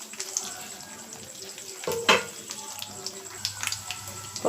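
Urad dal and seasoning sizzling in hot oil for a tempering, a steady crackling fry with stirring and a brief metallic clatter of a pan partway through.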